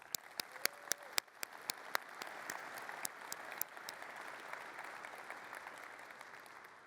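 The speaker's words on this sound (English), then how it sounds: "Would you please join me in giving them a warm round of applause?" An audience applauds at a Kafka Summit London 2024 keynote, opening with a few sharp, separate claps that swell into steady, fairly quiet applause from the hall.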